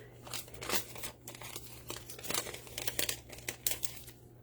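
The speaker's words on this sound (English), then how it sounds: "so these are just cellophane bags" Crinkly cellophane bags are handled up close during a paper-craft kit assembly, giving repeated sharp, papery crackles and rustles in irregular bursts, with no talking.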